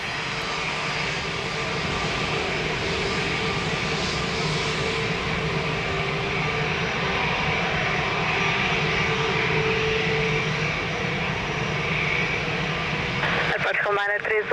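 A jet airliner at Lisbon Airport powers up for takeoff on runway 02, a steady loud engine roar that persists throughout, with a radio voice talking over it near the end.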